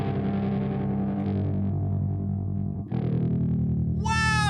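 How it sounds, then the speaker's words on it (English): Electric guitar run through a distortion effects pedal, a thick sustained fuzzy chord ringing continuously, shifting to a new chord near the three-second mark, then a bright warbling octave-like squeal rising at the end. "The blue is like just the distortion."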